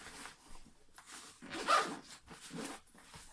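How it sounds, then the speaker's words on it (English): A backpack compartment being zipped shut, a few rasping zipper pulls in short bursts with one louder stroke near the middle, close by and without talk. "I'm going to zip that one up."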